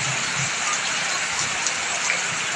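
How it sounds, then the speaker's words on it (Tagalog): Heavy rain pours steadily in the Philippines during flooding, a loud, dense and unbroken hiss of falling water that lasts throughout with no voices. "Hindi na tumitigil ang ulan."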